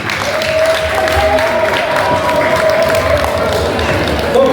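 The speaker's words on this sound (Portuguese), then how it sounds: "Uma salva de palmas para a Casa da Guiné." Applause at a book launch held by a Guinea-Bissau community house in London: a loud, sustained mass of clapping with a faint tonal hum underneath and crowd murmur mixed in.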